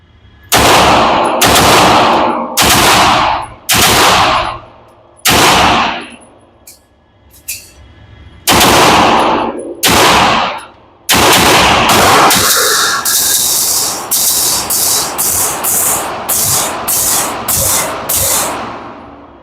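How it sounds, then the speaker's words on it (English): Masterpiece Arms MPA DS9 Hybrid pistol fired in quick double taps at targets, loud sharp outdoor reports in pairs with short pauses, then a faster run of shots toward the end. "Gonna start out with this masterpiece arms, and I guess we'll go to that top left target. We'll just double tap a couple of them in there."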